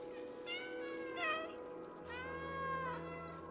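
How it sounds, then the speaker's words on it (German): Cat meows from the video game Stray, several drawn-out tonal cries in a row over a steady low background hum of game ambience. "Wir können miauen, Leute."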